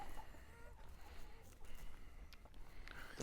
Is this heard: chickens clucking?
yes